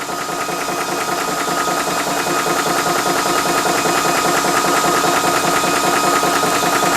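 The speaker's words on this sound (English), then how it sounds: "you obviously can hear the noise coming from the compressor, so be prepared for a little bit of a little bit of noise while filling up your gun" A Ballistic 12V PCP compressor pumps air into an air gun with a loud, close, continuous mechanical drone and a rapid, even knocking pulse that holds steady for seven seconds, with no talking.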